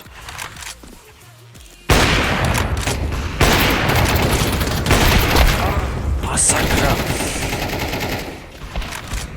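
Rapid automatic gunfire and bursts of shots from a Counter-Strike 2 deathmatch, loud and dense for most of the stretch, with a player's voice talking over it.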